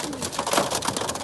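Pigeons in a pigeon loft give a continuous, close, fairly loud cooing, with overlapping throaty coos layered over each other and no break.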